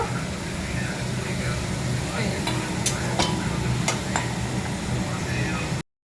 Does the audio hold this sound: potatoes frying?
yes